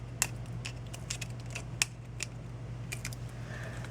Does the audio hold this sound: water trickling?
no